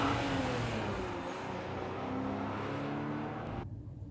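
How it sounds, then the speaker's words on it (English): Loud, close engine roar of motorcycles revving as they pass on a New York City street, a continuous throaty drone with rising and falling pitch that cuts off abruptly near the end. "The motorcycles."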